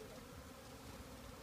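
A large swarm of bees flying around a tree outdoors, giving a faint, steady, continuous buzzing hum with no clear breaks.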